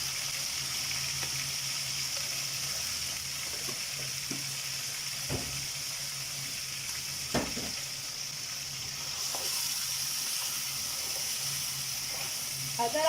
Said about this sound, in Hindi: अब मैं डालने जा रही हूँ अदरक लहसुन